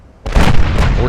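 Torpedo hits on warships in the naval battle game Ultimate Admiral: Dreadnoughts burst out as a sudden loud boom followed by a rumbling roar that stays heavy for the rest of the moment.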